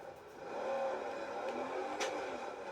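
A car drives in a video game, with a steady engine hum and whir that swells slightly and holds throughout at moderate, close level, no talking over it.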